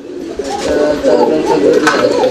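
Close, loud cooing from a pair of fancy pigeons, a female and a male, with a warbling, rolling rhythm, steady throughout with a little background noise.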